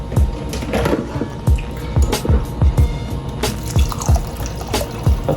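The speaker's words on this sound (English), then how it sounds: "So I'm going to put some more water." Water pours and splashes into a pot of jasmine white rice in bursts, with close gurgling and irregular drips and dribbles throughout.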